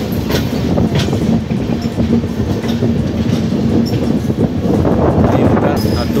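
The 12445 Uttar Sampark Kranti Express from New Delhi to Katra runs with a loud, continuous rumble and rhythmic clickety-clack of wheels on rails, heard close from on board.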